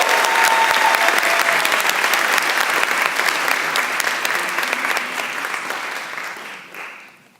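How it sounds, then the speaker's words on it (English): Loud, dense audience applause for the Honors College dean at an FIU welcome event for transfer students, sustained clapping that gradually thins and fades out toward the end. "Please give another round of applause"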